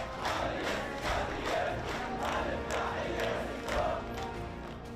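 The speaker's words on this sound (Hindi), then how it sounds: "जो लोग लाशों को दफनाने आए थे, वो अब तालियां बजाकर नारे लगा रहे थे" A crowd gathered at a funeral claps and chants slogans in a rhythmic, repeating pattern of rising shouts roughly every second, heard at moderate distance over a dense background of voices.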